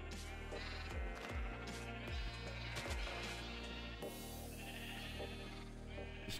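Sheep in the video game Minecraft bleat repeatedly over a dense, busy game soundtrack and background noise, several short calls in the first few seconds.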